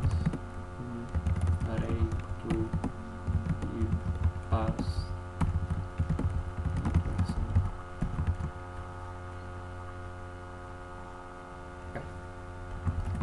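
Computer keyboard typing while coding, light clicking keystrokes in irregular bursts over a steady mains hum, fairly quiet and close.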